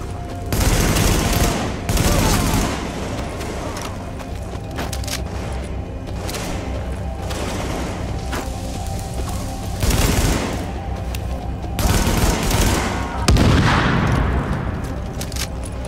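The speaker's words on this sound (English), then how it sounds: "That shooting, that was you, right?" Bursts of gunfire from Tom Clancy's The Division, a video game set in lower Manhattan: loud volleys of automatic fire with heavy thuds, dense through the whole stretch and peaking in several sharp clusters.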